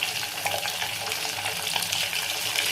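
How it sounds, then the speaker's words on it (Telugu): Amla gooseberries fry in hot oil with tempering spices and a pinch of turmeric in a pan, giving a steady, close sizzle with faint scraping as they are stirred. "ఉసిరికాయలు మాడిపోకుండా ఇలా తిప్పుకోవాలి"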